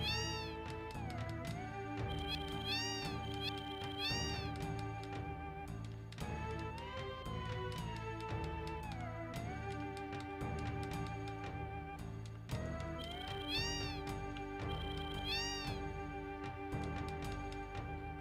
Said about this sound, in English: A house full of cats!